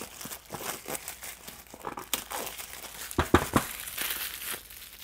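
Plastic wrap crinkles and crackles close up as a OnePlus 7T phone is unboxed. The rustling runs steadily throughout, with a few sharper crunches toward the end.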